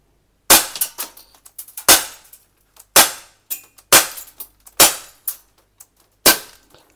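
An Umarex Beretta Px4 airsoft BB pistol fired in a steady series of about seven sharp, loud cracks roughly a second apart, each followed by brief rattling and impact clatter, up close with no talk.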